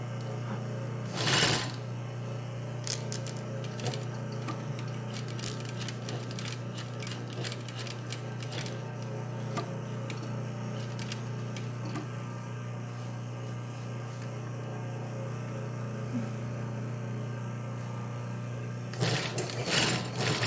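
A sewing machine stitching an invisible bias-binding finish on a lining for a multipurpose holder, whirring steadily at close range for a long run with rapid mechanical ticking, briefly pausing and restarting near the end, with no talk.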